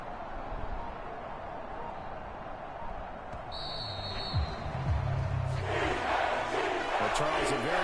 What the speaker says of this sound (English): And the home crowd applauding.